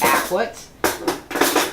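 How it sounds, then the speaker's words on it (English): A silverware tray being slid into a kitchen drawer, with clattering cutlery and scraping in several sharp bursts, close and loud, after a brief spoken word. "in order to store it, I just stick it in my drawer and I put it in here"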